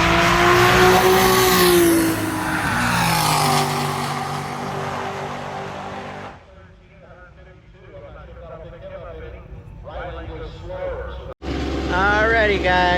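Drag racing cars, a Toyota Supra and a Mustang, launch at a strip with a loud engine roar that quickly fades into distant engine noise, with crowd and voices in the background before a sharp burst returns near the end.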